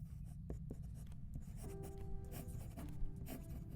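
Pen scratching on paper at a desk, faint, close strokes in short irregular bursts with brief pauses, alone without any voice.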